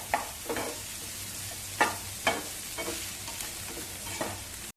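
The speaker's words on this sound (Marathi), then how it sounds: "कांदा आणि आलं लसूण पेस्ट चांगली तेलावरती परतवून घेऊया" Onion and ginger-garlic paste sautéing in oil for veg Manchurian give a soft continuous sizzle, broken by a few scraping stirs of the spatula, close up and quiet, with no voices.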